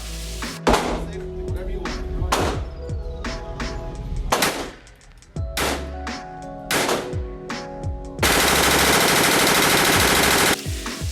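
PS90 gunfire plays from a video: sharp single shots spaced irregularly, then a loud continuous burst near the end, close and dominant with little else audible.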